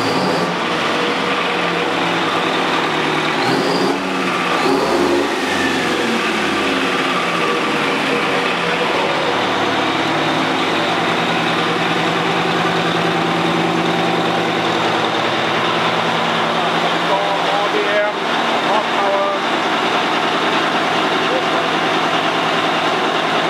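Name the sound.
engine revving on a dynamometer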